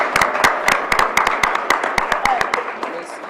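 Applause from an audience at a Black History Month observance for School 16 middle school students, heard as a series of sharp, distinct claps in a loose rhythm that thins out toward the end, fairly close with no talking over it.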